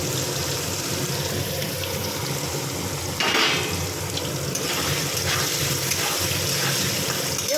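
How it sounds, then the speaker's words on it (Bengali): Paneer pieces frying in hot oil, with a lightly salted mixed-vegetable dish being cooked, give a steady broadband sizzle and hiss throughout, briefly louder and sharper midway, with no talk. "গরম হয়ে গেছে, এবার পনিরগুলো দিয়ে দেবো"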